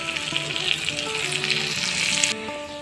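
Chicken curry masala with ground spices and five-spice powder sizzles in a pan after a little ghee is added, a steady bright frying hiss running throughout, with a faint melodic tone layered beneath.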